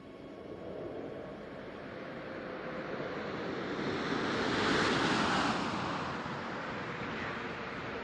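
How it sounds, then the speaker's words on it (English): Space Shuttle Atlantis touching down on the runway, a broad roaring rush of air and rumble that swells to a peak midway and slowly eases, heard from a distance with no talk. "Landing gear down and locked. Main gear touchdown."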